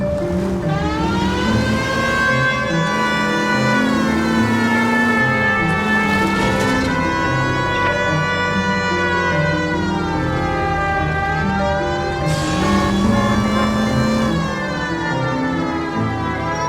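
A police car siren in the video game L.A. Noire wails continuously, its pitch rising and falling in long sweeping cycles, loud and close, with no voices.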